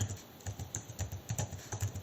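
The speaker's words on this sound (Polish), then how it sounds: "I teraz piszesz tak. Wpisujesz tu translator" Rapid, steady keystrokes on a computer keyboard, a run of close, crisp clicks with no talking.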